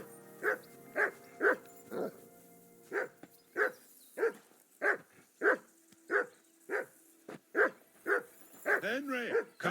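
Dog in the medieval RPG Kingdom Come: Deliverance 2 barking repeatedly in an even, insistent rhythm, about fifteen clear sharp barks, close and distinct, ending in a whining, yelping flurry.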